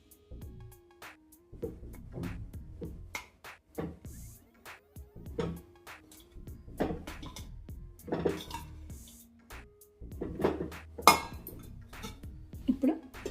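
Indian gooseberries (amla) dropped into a cooking pot, a series of clinks, knocks and rattles against the metal, with a voice talking through much of it.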